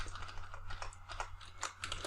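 Quick, uneven clicking of a computer keyboard being typed on nearby, soft tapping bursts over a low steady hum, with no talking.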